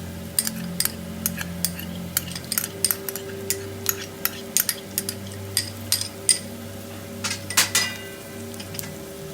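Dried chillies dropped into onions tempering in a pan, a faint steady sizzle with quick metallic clinks and taps of a spoon against the pan, close up with no talk.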